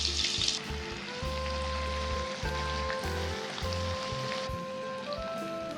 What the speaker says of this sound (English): And now we're going to add in sliced onion, 2 large onion or 3 medium sized onion.